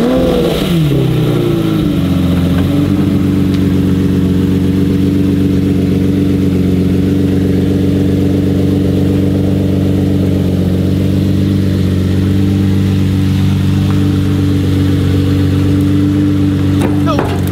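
A Lamborghini Murcielago engine idles loud and close with a steady deep hum, after a brief rev that settles down in the first few seconds; a voice is faintly present.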